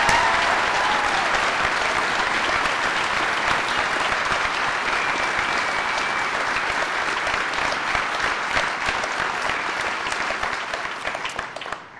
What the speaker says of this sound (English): join me in applauding one more time enthusiastically your